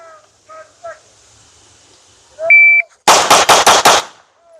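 A compensated SIG P320 pistol is fired rapidly in a mag dump, five sharp loud shots in quick succession, preceded by a few short electronic beeps from a shot timer.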